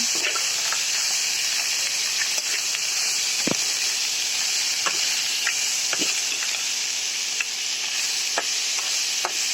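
Fried sea crabs sautéing in a pan of reddened spices, a steady close sizzle with repeated scraping stir strokes throughout and no voices.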